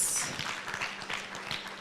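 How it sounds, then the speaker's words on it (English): Conference attendees applaud, a brief burst of many hands clapping at moderate distance that fades slightly, mixed with faint murmuring voices. "Can we give him a round of applause?"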